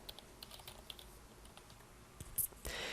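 A computer keyboard clicks in a quick, quiet run of keystrokes, ending with a few louder taps and a short burst of noise.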